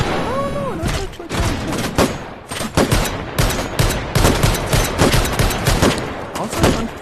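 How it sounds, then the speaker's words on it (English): A custom Desert Eagle with a backwards-mounted silencer in H3VR fires a rapid string of loud, sharp cracks, about a dozen unsuppressed shots in an uneven rhythm after a brief spoken exclamation at the start. "the silencer, or whatever this is supposed to be, doesn't quite work, because I think we more or less installed it backwards"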